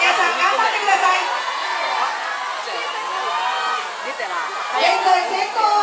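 A large outdoor crowd at a junior high school athletics meet in Hyogo, Japan, chatters and cheers continuously during a boys' 3000m heat, with scattered shouts and whoops rising over a steady wash of voices.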